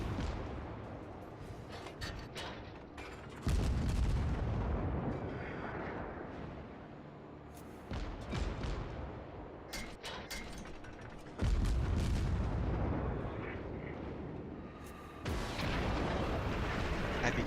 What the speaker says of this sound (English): I begin to take fire from the oncoming enemy ships.